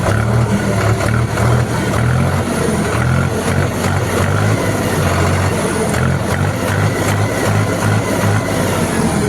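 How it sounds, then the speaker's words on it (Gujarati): Close, loud diesel rumble of a Deutz-Fahr Agromaxx 50 Turbo tractor engine held at raised revs, with low pulsing surges recurring through a steady drone. "અને રિસ્પોન્સ એકદમ ક્વિક રિસ્પોન્સ છે, સારામાં સારો રિસ્પોન્સ આપે છે એન્જિન."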